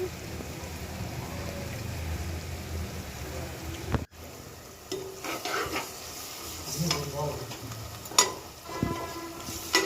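Liver fry cooks in a pan and is stirred with salt and turmeric. The first half is a continuous sizzle, then a brief dropout, followed by a clattering stir with spoon knocks against the pan.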